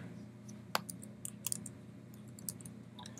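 A username being typed on a computer keyboard, a handful of sharp, irregular key clicks over a faint background hum, quiet and close.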